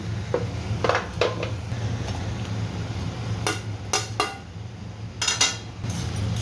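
Potatoes go into a pan while aloo kara kari cooks: scattered clinks and knocks of metal and utensils, a few sharp clatters in small bursts over a low steady hiss.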